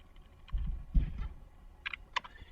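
A few light computer keyboard key clicks, sparse and faint, come in scattered pairs over a quiet low room hum.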